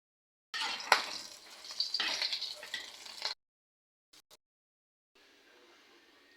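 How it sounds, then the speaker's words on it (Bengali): An egg fries in a pan, a close, bright sizzle and crackle for about three seconds, then near silence with a couple of faint clicks, then a softer sizzle returning near the end. "এদিকে আমি ডিম ভাজতেছি, ডিমটা ভেজে নেব।"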